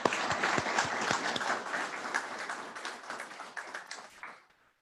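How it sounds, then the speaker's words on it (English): Applause from the crowd at a police academy graduation ceremony, a dense, steady wash of many hands clapping at moderate distance, gradually thinning and then cutting off near the end. "Let's give them a round of applause."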